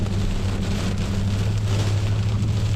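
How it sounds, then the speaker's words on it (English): Heavy rain hammers down in a severe storm with strong winds blowing it across a road; a dense, steady roar of rainfall fills the whole stretch with no pauses. "It is hammering down right now, and the winds are strong."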